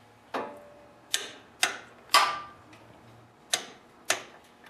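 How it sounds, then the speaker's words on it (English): Sharp, distinct clicks ring out one after another at uneven intervals, six in a few seconds, from a torque wrench tightening the head bolts on a lawn tractor's OHV engine during a head gasket repair. "I'm going to force until I hear a click on the torque wrench"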